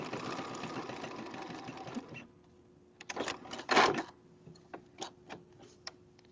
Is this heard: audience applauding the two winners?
no